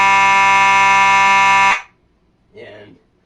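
A Simplex 4903 fire alarm horn sounds continuously, loud and close, a steady harmonic-rich tone that cuts off sharply; a brief muffled voice follows after a short silence.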